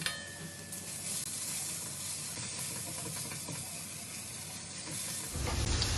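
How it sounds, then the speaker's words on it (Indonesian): Garlic sizzles and hisses steadily in hot oil in a wok, a dense continuous frying crackle that runs for the whole stretch, with a louder low rumble joining near the end. "Minyaknya udah panas, bisa masukin bawang putihnya, kita tumis sampai kuning."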